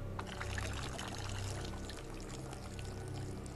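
Water is poured out steadily in an animated Team Fortress 2 scene, making a continuous trickling, splashing flow at moderate loudness under a low background hum, without any speech.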